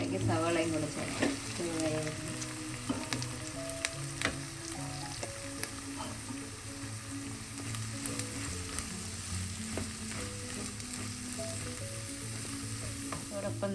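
Onion, curry leaves and green chillies sauté with salt in a pan for a country-style crab curry. The sizzle holds steady throughout, with frequent clinks and scrapes of stirring, and faint background music can be heard under it.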